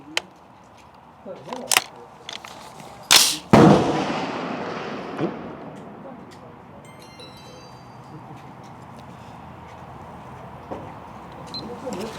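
An AR15/M16 rifle with a pencil barrel firing at an outdoor 300 m range: a few sharp, loud cracks, two of them close together, each followed by a long fading echo.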